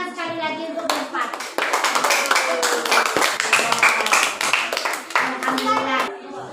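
A classroom group claps steadily in a brisk, continuous round of applause, close by, with voices of children and adults calling out over it.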